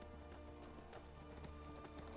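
Rapid clip-clop of galloping horse hooves in Skyrim, steady and close, with a brief whinny-like accent partway through.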